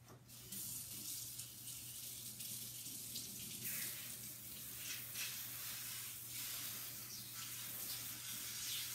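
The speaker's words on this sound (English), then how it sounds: "let me rinse this off real fast" Water runs steadily from a tap as something is rinsed under it, a constant close hiss and splash that starts abruptly and continues for several seconds with shifting spatter.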